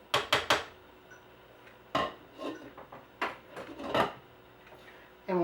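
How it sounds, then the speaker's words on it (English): Chili is stirred in a cooking pot, with sharp metallic scrapes and clinks of a utensil against the pot coming in short bursts, some rapid and others spaced out, close by. "Give it a little stir."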